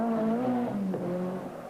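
Ford RS200 Group B rally car driven by Mark Lovell on the 1986 Manx Rally, its engine note holding a steady tone that dips and shifts as it cuts out briefly through left-hand bends, fairly close and without talk.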